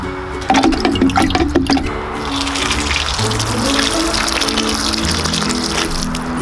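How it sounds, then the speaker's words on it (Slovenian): Warm water mixed with Kelp Tonic, a thick liquid fertilizer, pours steadily and close for several seconds while tomato seedlings are planted, with a few clunks at the start. "V 10 litrov vode dam 10 ml Kelp Tonika."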